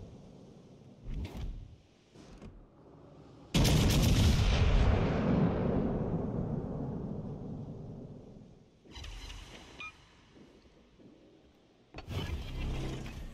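Warship main guns fire in World of Warships Legends: a massive booming salvo erupts and rolls off over several seconds, bracketed by shorter, fainter blasts before and a further heavy report at the end.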